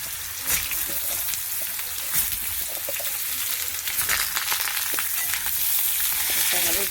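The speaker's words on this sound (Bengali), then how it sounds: "ঝিঙে আলুটা ভেজে নেব" Ridge gourd and potato pieces fry in hot oil in a pan, a steady close sizzle with crackling pops and occasional stirring scrapes, no talking.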